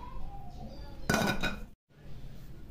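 Roasted flaxseeds being tipped from a pan into a mixer jar, giving a short burst of rattling and clinking at close range over a quiet kitchen background, with no talking.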